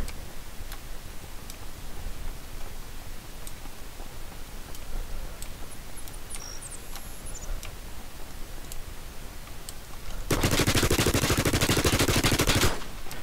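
Gunfire in a shooter video game: faint, sparse clicking shots spread through the clip, then a loud burst of rapid automatic fire lasting about two seconds near the end.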